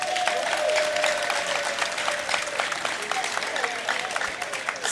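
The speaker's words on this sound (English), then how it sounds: "You should applaud yourselves." An audience at an official visit to a ministry applauding themselves, steady moderate clapping filling the room at even volume with a faint voice trailing underneath.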